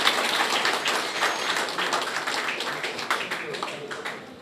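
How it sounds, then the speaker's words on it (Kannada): Enthusiastic applause greets four new members at a Lions Club installation ceremony, a dense steady patter of many hands clapping at close range for several seconds, fading slightly toward the end. "ಈ 4 ಸದಸ್ಯರನ್ನು ಜೋರಾಗಿ ಚಪ್ಪಾಳೆ ಕೊಡುವುದರ ಮೂಲಕ ಸ್ವಾಗತ ಮಾಡುವ"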